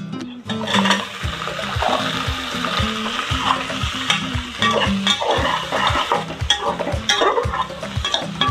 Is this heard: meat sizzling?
yes